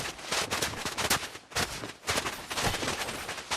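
Rapid bursts of gunfire in the Fortnite video game, dense repeated shots clustered in quick volleys with brief pauses between them, loud and close.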